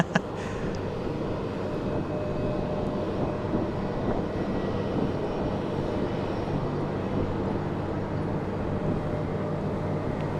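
Boeing 717 airliner at Charlotte Douglas International Airport on a windy day, a steady broadband jet engine roar heard from a distance, holding even throughout without talk.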